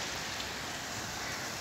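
Heavy rain falls in Kathmandu city after a hailstorm, a loud, dense and unbroken roar of drops hitting nearby surfaces.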